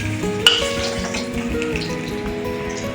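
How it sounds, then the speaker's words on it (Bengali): Prawns fry in dark, used oil after pointed gourd, giving a steady, close sizzle with a brief sharp click near the start and a continuous bubbling hiss throughout. "এবারে পটলগুলো তুলে চিংড়ি মাছগুলো একটু একটু ভেজে নিই"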